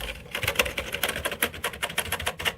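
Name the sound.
computer keyboard keys being pressed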